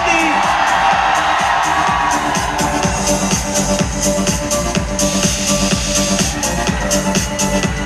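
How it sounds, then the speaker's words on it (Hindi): Dense, continuous crowd noise with clapping and cheering from a large audience at a Forever Success 2026 event in Delhi, loud and sustained throughout with rhythmic claps and whoops. "जोरदार तालियां हो जाए दोस्तों। भाई शोर रुकना नहीं चाहिए।"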